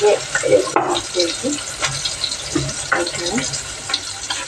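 Water is poured into a pot for making coffee, splashing in uneven bursts among clatter from the kitchen, with a voice talking at times.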